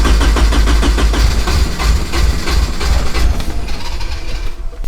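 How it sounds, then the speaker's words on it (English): A Nissan S14 Kouki engine cranking and catching after being brought back to life, a loud, close, rough low rumble with uneven pulsing that settles toward idle and then fades near the end. "Try and start her up, Benny boy."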